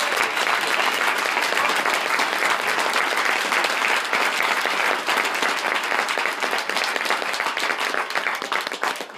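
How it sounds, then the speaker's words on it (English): An audience at a talk by Graham Hancock applauds loudly and steadily for several seconds, the dense clapping tapering slightly at the end. "if you would all give him another round of applause"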